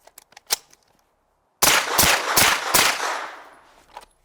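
Handgun shots on an outdoor range during a timed shooting drill, a few quiet clicks first, then four loud sharp shots in quick succession, each ringing out and fading.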